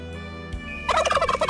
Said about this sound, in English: the wily old turkey had already been here for a couple of million years.